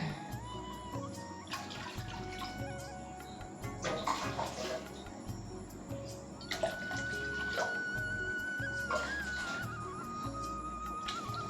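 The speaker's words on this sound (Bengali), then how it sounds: "জলটা আগে দিয়ে নিই।" Water pours into an electric wok cooker in a home kitchen, used in place of a gas stove. A steady splashing rush runs throughout, swelling in a few louder surges, with faint kitchen background and no talking.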